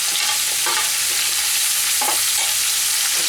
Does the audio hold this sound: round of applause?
no